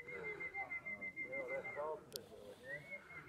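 Soft racing pigeon cooing with faint whistling tones, a brief sharp click midway, and low voices murmuring in the background at a pigeon race finish.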